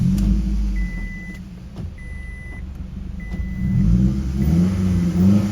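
A 2006 Scion tC engine, with a newly replaced PCV valve, runs at a steady idle, close by with a low rumble that swells slightly toward the end, with faint electronic beeps.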